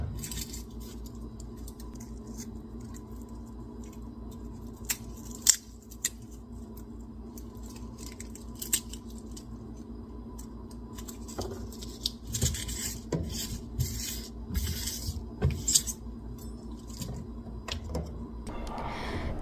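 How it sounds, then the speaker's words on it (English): Garlic cloves being finely chopped with a knife on a board in a home kitchen, irregular clusters of light tapping and scraping cuts, sparse at first and quickening into busier bursts later over a low steady hum. "We are going to use 2 cloves of garlic and we are chop them finely."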